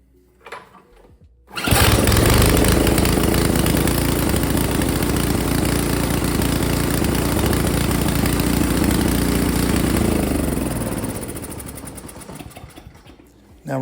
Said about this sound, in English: And then we'll go ahead and fire her up.